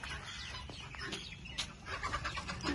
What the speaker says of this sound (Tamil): கோழி சண்டை விடுறாங்க கோழி சண்டை விடுறாங்க